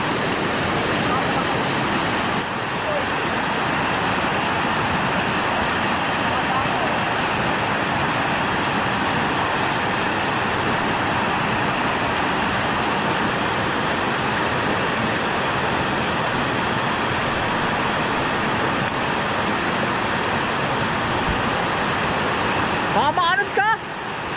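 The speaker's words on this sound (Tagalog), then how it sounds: "Ang laka ng tubig." Strong river current rushes loud and steady beside a riverbank where wild blackberries are being picked, a dense unbroken roar of water that fills the whole stretch with barely a dip.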